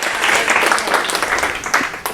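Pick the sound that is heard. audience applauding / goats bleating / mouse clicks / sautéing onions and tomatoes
audience applauding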